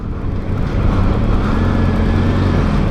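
A Benelli TRK 502X adventure motorcycle is ridden, its engine giving a steady, close, continuous drone with road and wind noise and no voices.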